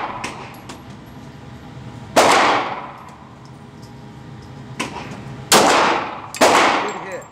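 Pistol shots on a shooting range, four sharp reports with a metallic ring suggesting hits on a steel target, spaced in a slow, steady rhythm, fairly close and loud.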